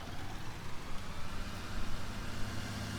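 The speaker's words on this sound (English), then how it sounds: "This is a nice tractor. Sounds good, looks good," A tractor engine in Farming Simulator 19 runs at a steady, even idle. It is a continuous low, close-up rumble with no talk over it.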